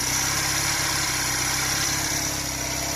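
A Honda CD175 motorcycle under restoration idles steadily nearby with the fuel line shut off, a continuous even engine drone with faint mechanical ticking and no talk.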